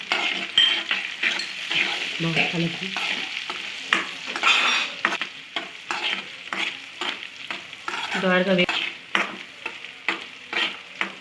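Dried red chilies and curry leaves crackle and sizzle in hot oil while a spoon stirs them, with repeated metallic scrapes against the pan over a steady frying hiss, close up.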